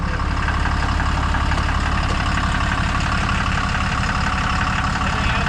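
A Ram Cummins diesel truck engine runs steadily and loudly up close, a dense unbroken rumble with no voices over it.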